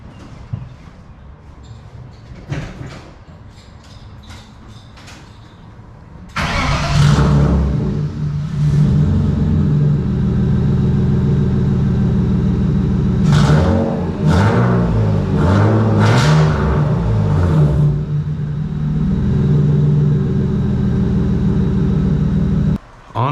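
Drift car project engine cranking and catching after a quieter lead-in, then a loud, raspy continuous roar with several sharp revs rising and falling before settling back near the end.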